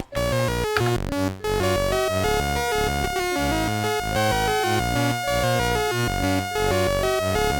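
Commodore 64 chiptune built from sawtooth waves on the SID chip, a continuous loud buzzy melody with bass and lead voices stepping through short notes, steady throughout with no talk.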